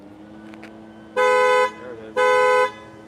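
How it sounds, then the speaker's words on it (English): Two loud, buzzy horn blasts from a 2021 Polestar 2 electric car sound about a second apart, a repeating panic alarm. "That's the panic. The horn,"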